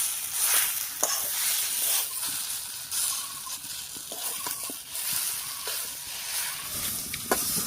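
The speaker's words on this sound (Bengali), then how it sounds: "হলুদ লবণ দিয়ে মিশিয়ে একটু ভাজা ভাজা মতো করে নিয়েছি" Mankochu paste fries in a pan with turmeric and salt, a soft, continuous sizzle broken by scraping stirs and small crackles, heard close and fairly quiet.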